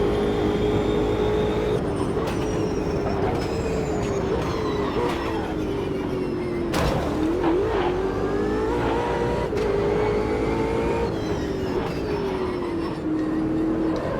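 Race car in Automobilista 2 accelerating around a short track, engine revving up repeatedly with quick upshifts and rising pitch, loud and close throughout.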